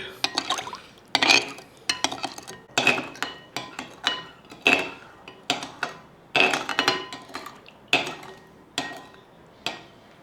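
A spoon stirring black marinade for dried mackerel in a bowl, with repeated clinks and scrapes against the dish in an irregular rhythm, close and clear with no voices.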